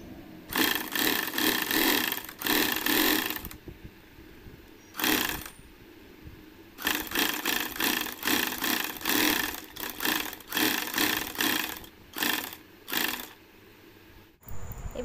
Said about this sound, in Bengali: এইভাবে মুড়ে পুরো এখানটা এইভাবে সেলাই দিয়ে নেব